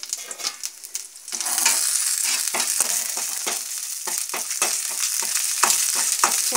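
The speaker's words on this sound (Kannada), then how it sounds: "ನೆಕ್ಸ್ಟು ಇದನ್ನು ಫ್ರೈ ಮಾಡ್ಕೊಳ್ಳೋಣ" Vermicelli frying in ghee in a hot pan, a steady loud sizzle with repeated scraping stirs, no talk over it.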